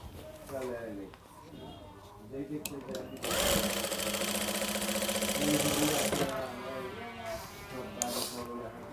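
An electric sewing machine slowly stitches a panjabi, its motor running in a steady whirring burst of a few seconds between pauses, with a person talking before and after.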